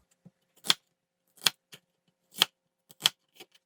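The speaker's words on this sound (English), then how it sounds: "Let's cut the onion for sauce" Knife chopping an onion for a dipping sauce to go with a shredded potato pancake: sharp, separate cuts in an irregular rhythm, close and fairly loud, with short gaps between strokes.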